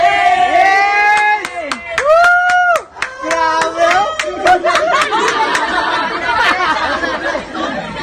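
Audience clapping and chattering at a Filipino house blessing party, with loud laughter and shouting voices over scattered hand claps throughout.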